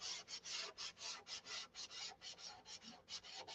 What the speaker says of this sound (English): I'm not going to make you stick through all the sanding of this thing.